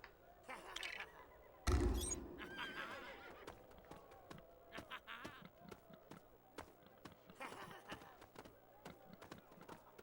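A horse in Lego Pirates of the Caribbean whinnies sharply, followed by a scatter of light clip-clopping hooves and small game effects, fairly close and clear.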